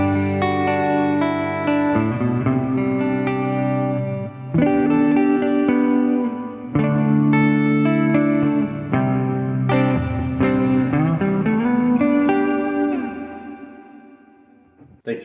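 Guitar played through a Headrush 11 Reverb pedal set to Bright Hall with 80 ms pre-delay and a higher mix, strummed chords blooming into a lush wash that trails off gradually over the last few seconds.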